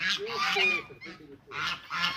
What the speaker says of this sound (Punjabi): ਜੰਗਲੀ ਮੁਰਗਾ ਹੈ ਜੰਗਲੀ ਮੁਰਗਾ ਜੰਗਲੀ ਮੁਰਗਾ ਵੇਖ ਲੈ